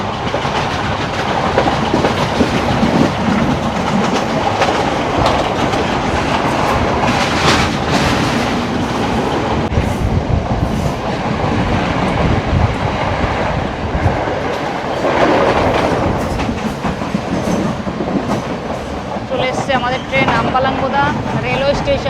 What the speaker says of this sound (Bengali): আমাদের এই ট্রেনটা কিন্তু সব স্টেশনে দাঁড়াবে না, এক্সপ্রেস ট্রেন। এই দেখো এই স্টেশনটা স্কিপ করছে,